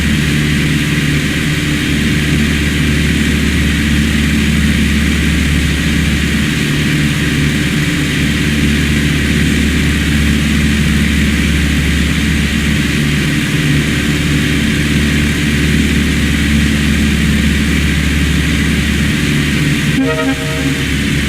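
Light aircraft engine in the FSX flight simulator held at reduced throttle on landing approach, a steady loud drone with constant low harmonics throughout, ending in a brief tonal beep near the end.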